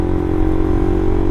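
A Suzuki GSX-R150 motorcycle fitted with an R9 Mugello silencer and Proliner header idles close by, a steady, loud, deep engine rumble with an even pulse and no talking.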